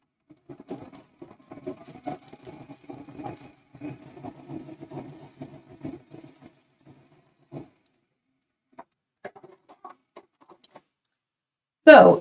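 Sewing machine quilting a fabric block, a faint, close stitching whir in short runs over the first several seconds, then mostly quiet with scattered light taps and a sharp noise at the very end.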